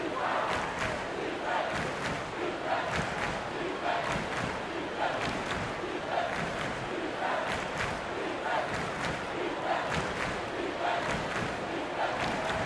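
Basketball arena crowd in NBA 2K22 cheering after an alley-oop slam, a continuous roar of many voices with steady rhythmic swells, dense and moderately loud throughout.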